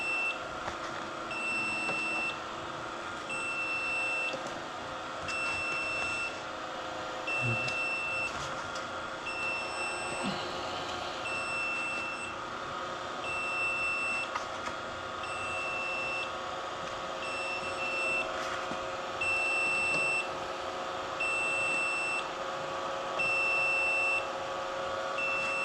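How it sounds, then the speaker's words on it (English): An egg incubator on a farm gives a long run of regular, evenly spaced electronic beeps, a high repeating tone that persists quietly over faint room noise. "Once we close it, press the button, that beeping stops."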